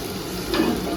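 Masala spices with ginger garlic paste sizzle in a hot pan, a steady close crackle with a brief stir-like swell midway, short and moderately loud with no talking.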